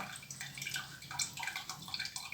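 Whey drips and trickles steadily from fresh homemade round wheel cheese set in a draining mold, a close, continuous patter of small liquid drops with no talking.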